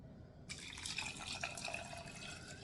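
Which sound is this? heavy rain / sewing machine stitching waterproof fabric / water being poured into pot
water being poured into pot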